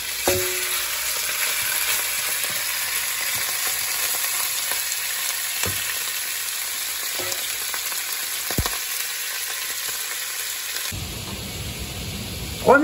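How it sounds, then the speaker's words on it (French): Beef dropped all at once into very hot oil sizzles with a loud, dense frying hiss, close up, with a few clacks of a utensil scattered throughout and a burst of noise at the end, no talking. "Et là, il faut que l'huile soit très chaude. Donc, elle est assez chaude. Alors, on va jeter la viande tout d'un coup."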